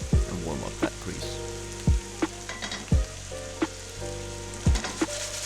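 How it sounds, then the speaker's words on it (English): Bacon grease heats in a frying pan on medium heat, crackling with a steady sizzle punctuated by several sharp pops and spatters, close and fairly loud with no voices. "So let's get a pan on medium heat and warm up that grease."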